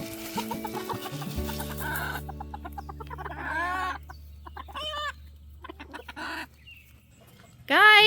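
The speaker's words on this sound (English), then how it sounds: "I was so proud of all the chickens for coming" Backyard chickens cluck and squawk in short, irregular bursts at close range during evening farm chores, with a sharper, louder call near the end and a steady low hum beneath.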